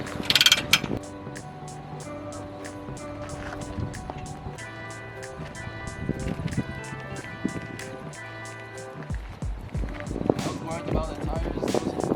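A bike rack's tire clamp ratchets in a quick run of rhythmic clicks as a heavy bike is unloaded at a trailhead, mechanical ticking and clunks continuing throughout at close range.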